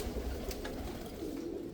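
Salara Teddy rain pigeons coo softly, with low, steady, rolling calls close by and a faint background hiss.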